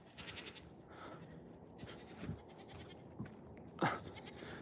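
Goats on a hillside farm bleat repeatedly at a moderate distance over steady outdoor background noise, with several short calls and one louder cry near the end.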